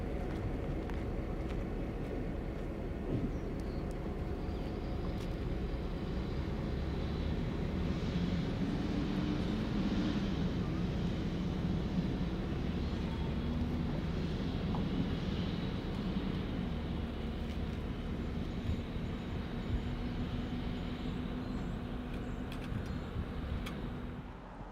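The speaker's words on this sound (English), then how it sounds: "Mount Hood 89 arrives at the junction." Mount Hood 89, a Santa Cruz and Monterey Bay Railway locomotive, arriving at Pajaro Junction: a steady low engine rumble that holds throughout, with no speech.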